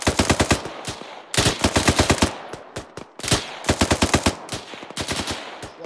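Automatic gunfire in the military video game ArmA 3 during a patrol, loud close bursts of rapid rounds with brief pauses between volleys, one burst after another.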